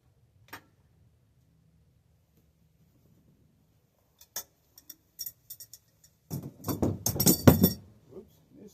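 A metal tool dropped while tightening a part on a bike clatters and rattles in a short burst of clinks and scrapes near the end, after a few faint isolated taps in a quiet room.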